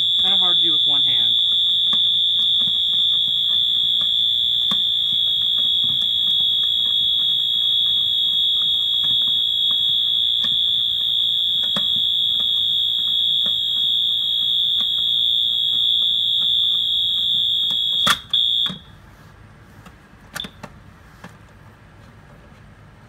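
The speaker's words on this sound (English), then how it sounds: "Yes, I'm holding the fire alarm with my foot." Fire alarm blaring a steady, piercing electronic tone during a system test, loud and continuous for about eighteen seconds before cutting off abruptly, followed by a few faint clicks and handling sounds in near quiet.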